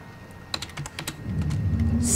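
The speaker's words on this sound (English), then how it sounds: "I'm just typing!" Quick clatter of keys on a computer terminal keyboard in the sci-fi survival horror game Alien: Isolation, a short burst of crisp keystrokes over a low hum.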